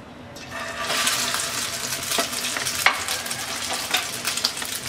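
Egg-dipped keema aloo kababs fry in a pan of hot oil, giving a steady close crackling sizzle with a few sharper pops and spatters throughout.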